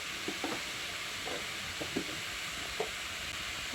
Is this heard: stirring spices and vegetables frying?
yes